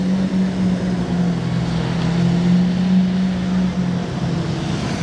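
A first-generation Lamborghini Aventador with an IPE exhaust on the streets of Monaco gives a steady, loud engine drone with a low, sustained tone over broad road noise, holding evenly throughout.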